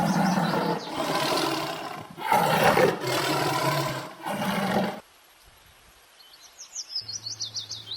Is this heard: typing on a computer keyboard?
no